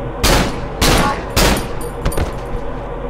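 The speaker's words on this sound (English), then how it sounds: "Thank you for staying still and letting me shoot you." Loud gunfire in the horror video game Cry of Fear: four sharp, separate shots spaced about half a second apart, then a couple of smaller cracks, with no talking.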